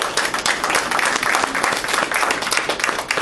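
Brief burst of applause from an audience at a business talk, dense clapping at steady loudness with no break over a few seconds.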